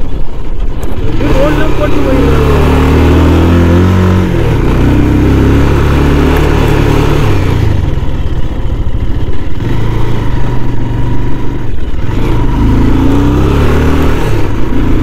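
A vehicle engine labours loudly on a rocky uphill climb, a heavy mid-pitched drone rising and falling in revs, with people talking over it.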